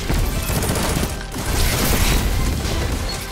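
Rapid gunfire in a shooter video game, a dense, loud, continuous burst of shots filling the whole moment with no talk.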